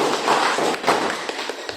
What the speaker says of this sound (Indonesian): Kasih aplaus, terima kasih.